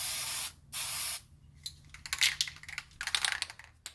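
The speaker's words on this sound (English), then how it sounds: "take your primer from, so I just stay like 6 to 8 inches away from" Spray can of primer hissing onto a BMW X5 E70 car part in two short bursts, followed by light clicks and taps from handling nearby; no one speaks.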